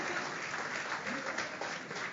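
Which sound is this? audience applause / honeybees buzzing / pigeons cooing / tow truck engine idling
audience applause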